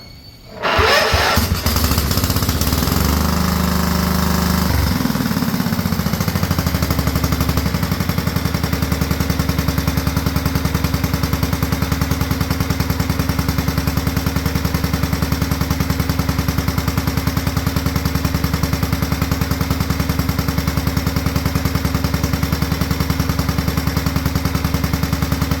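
A Scotts riding lawn mower engine cranks and catches on full choke, settling into a loud, steady idle that runs on unchanged.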